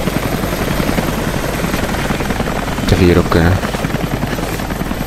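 A game helicopter from Rise of the Tomb Raider drones continuously with a thrumming rotor, loud and steady, while someone briefly speaks over it partway through.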